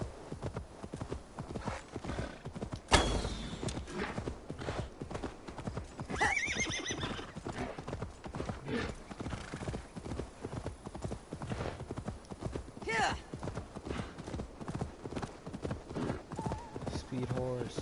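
A horse gallops with rapid rhythmic hoofbeats and lets out sharp neighs in Assassin's Creed Valhalla, steady clip-clop throughout under game sounds and occasional talk.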